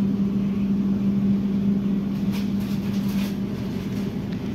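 Inside the executive car of the Manahan passenger train near Jogja, a steady low hum and rolling rumble carry on evenly, with faint track noise and no voices.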